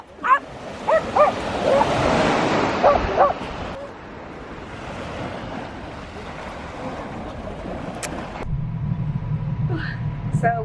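Dogs out for a walk at the beach bark and yip a few times over wind and surf noise, with people talking nearby and a low rumble near the end.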